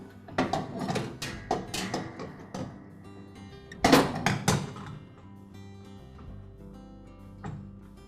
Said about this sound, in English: Now I can reinstall the transmission pulley.